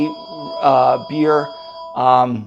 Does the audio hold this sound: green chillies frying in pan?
no